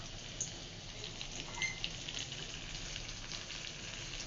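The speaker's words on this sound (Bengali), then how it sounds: "রসুন পেঁয়াজ দিয়ে তারপর বাগার দিব।" Garlic and onion tempering in hot oil for a Bangladeshi home-cooked dish, giving a steady, dense crackling sizzle that stays close and even throughout, with no talking.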